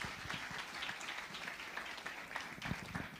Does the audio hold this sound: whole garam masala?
no